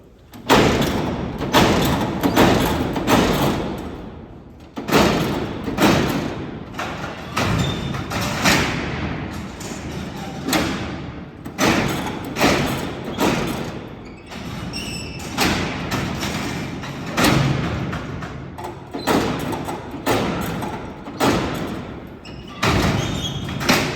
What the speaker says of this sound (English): Now you're going to hear these doors slam on you